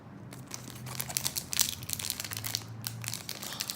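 Foil wrapper of a Cardfight Vanguard booster pack being torn open by hand, a steady close crinkling and ripping that runs for a few seconds with no talk.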